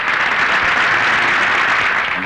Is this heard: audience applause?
yes